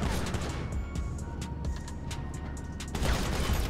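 Gunfire erupts during a GTA Online Cluckin' Bell Farm Raid mission, sharp repeated shots and bursts crackling over continuous game noise with a heavier boom near the end.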